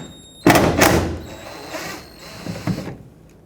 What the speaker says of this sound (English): you can slide an 8mm socket in with an extension and remove the two screws that hold